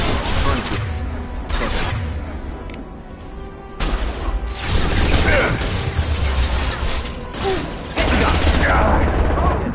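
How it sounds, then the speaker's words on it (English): Rapid gunfire and explosions from the video game Mass Effect 2, in loud sustained bursts with dense crackling and booming impacts, broken by short lulls, with voices faintly under the combat. "A misplaced shot can cause a significant explosion."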